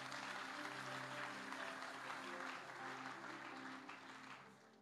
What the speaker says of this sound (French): On les acclame encore.